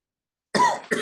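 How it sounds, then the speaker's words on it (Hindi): After silence, a person coughs twice in quick succession, close and fairly loud. "खांसी रहती है।"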